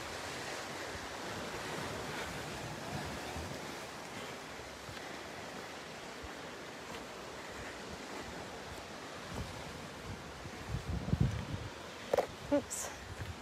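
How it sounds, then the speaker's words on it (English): Sea surf washes against a rocky bay in a continuous, broad rushing roar under wind buffeting the microphone, with a few louder bumps of handling noise near the end. "Just listen to that sea."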